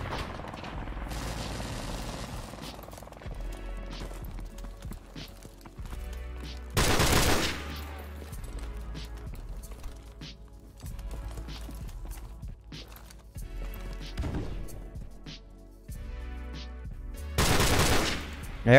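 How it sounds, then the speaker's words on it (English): Gunfire from a machine gun in Call of Duty: Modern Warfare Remastered, with several loud sustained bursts spread through the clip and quieter game effects between them. "Okay, so there's the machine gun."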